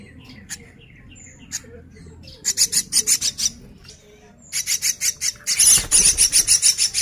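A hybrid of a jalak suren and a jalak uret starling calls up close in loud, harsh squawking bursts, delivered as rapid rhythmic chattering runs separated by short pauses.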